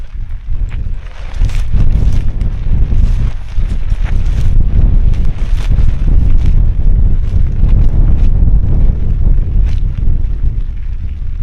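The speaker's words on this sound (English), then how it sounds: "Watch out for the wind." Strong gusty wind buffets the microphone throughout while a storm-shelter tarp is pitched outdoors in grim weather, a loud, continuous low roar with rustling and flapping bursts and no talk.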